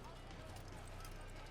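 Hooves of an unremarkable brown horse clip-clop in the Assassin's Creed video game, a faint rhythmic trot under continuous speech.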